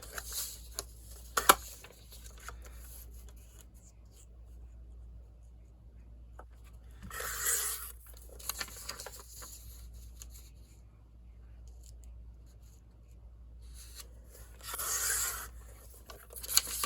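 A paper cutter slices through a pressboard journal cover in two separate rasping strokes several seconds apart, quiet and close, with small clicks and handling noises between them in an otherwise quiet room.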